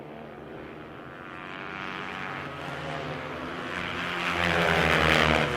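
Kawasaki KX 450 motocross bikes racing, engines droning and building steadily louder as they approach, a continuous roar with no voices.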